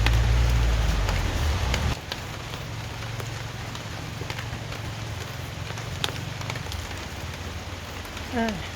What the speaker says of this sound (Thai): ฝนก็ตกเบาๆด้วยนะคะ